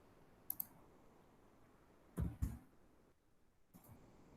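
A few sparse keystrokes on a computer keyboard, brief clicks in short clusters, close and fairly quiet against a hushed room.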